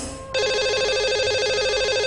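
An outgoing call to a radio show caller, with a brief dial click before a loud, steady telephone ring tone starts and keeps sounding in a regular warbling pattern.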